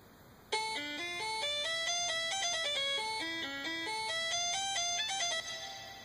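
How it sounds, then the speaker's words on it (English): A Bach piece played from a MIDI file in QuickTime Player 7, with bright synthesized tones in a steady stepping melodic line, clean and continuous with no voices. "Here's the MIDI file that I have. It's a piece by Bach. I'll play it on QuickTime Player 7."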